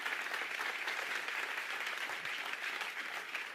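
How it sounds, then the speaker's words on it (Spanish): A congregation claps loudly and continuously in a church service, a dense close wash of many hands with no pauses. "Dale fuerte el aplauso al Señor."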